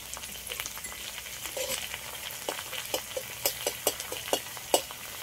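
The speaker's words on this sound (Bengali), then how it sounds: "কারি পাতাটা একটু হালকা করে ভেজে নেব।" Chopped curry leaves fry in hot oil in a wok, with a steady sizzle and a run of sharp, rhythmic spatula scrapes and taps that grow louder toward the end.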